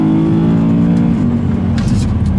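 A heavy BMW M3 E92 driven hard on a race track, its engine loud and close with a steady low drone, then a shift and rising revs near the end, with no talk.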